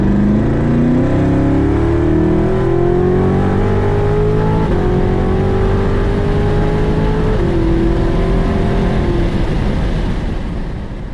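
A Corvette C7 Z06 with Stage 1 aero, an intake, an X-pipe and a ported throttle body accelerates hard on the track at NJMP. The engine roars loudly and climbs steadily in pitch through two gear shifts, heard from inside the car without talk.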